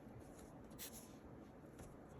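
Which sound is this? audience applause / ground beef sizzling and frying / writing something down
writing something down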